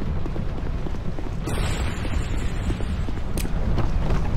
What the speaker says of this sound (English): Oh god, fire.